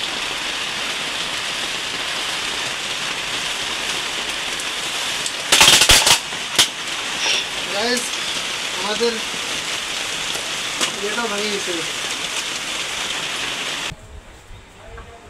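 Rain falls steadily with a constant hiss near a budgie-keeping setup, broken by a few sharp knocks and rattles midway and some faint chirps, while a person briefly speaks over it before it drops off at the end.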